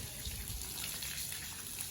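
Water gushes steadily from a pump for bathing during hot weather, a continuous loud splashing rush heard up close with no speech over it.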